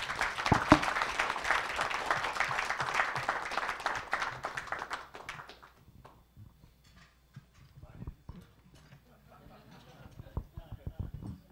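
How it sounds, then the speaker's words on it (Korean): An audience at a junior college presidents' summit gives hearty applause for a university newspaper, dense and loud for about five seconds before fading out, followed by quiet room noise with a few faint knocks and murmurs. "대학신문에 감사의 박수를 좀 힘차게 보내주시면 감사하겠습니다"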